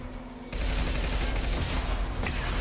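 Concussive shot ability firing in Mass Effect Legendary Edition, a sudden loud blast that opens into a dense roaring burst lasting about two seconds, then cuts off sharply.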